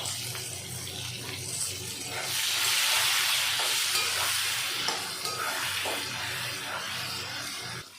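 Potato pieces frying in a pan for a thin shol fish and potato curry, a steady close sizzle with stirring scrapes that swells louder midway, with no one talking.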